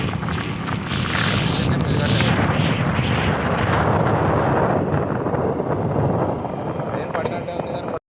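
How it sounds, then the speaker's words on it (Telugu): Strong wind roars across a river bridge after heavy rain in the rainy season, a loud, continuous gusting rush that buffets steadily for several seconds. "చూసారు కదా గాలి ఎలా వస్తుందో"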